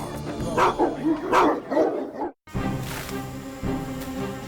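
Roman war dogs bark and yelp in loud, rapid bursts, close and dense through the first half, then drop to a lower, steadier snarling din after a brief silence.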